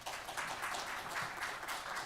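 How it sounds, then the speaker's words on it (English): An audience at a high school college info night applauds its presenters, a soft, steady patter of many hands clapping at a distance, quiet and sustained throughout. "Can we give a big round of applause for our 4 presenters tonight, please?"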